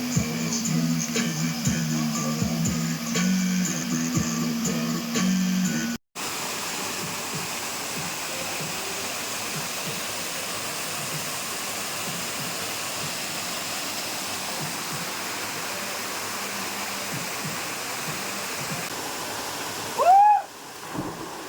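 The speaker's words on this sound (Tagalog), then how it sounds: "Kita niyo ba yung falls na yan?" Steady broadband rush of a waterfall, heard nearby after a bike ride, fills the scene continuously with a brief dropout early on and a short burst of other noise near the end.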